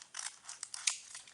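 Scissors cut a strip of card in a quick series of crisp close snips, several bright clicks in just over a second, with no talking.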